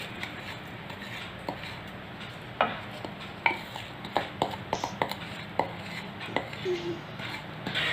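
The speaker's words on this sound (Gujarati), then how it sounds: "અને સરસ મિક્સ કરી લેવું।" A spoon stirs hot-oil tempering into jaggery-sweetened red chilli pickle, making intermittent scrapes and sharp clinks against the container over a low background hiss, with no talking.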